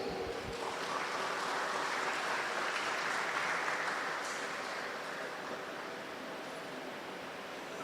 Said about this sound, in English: Let us give our parents and teachers a massive round of applause.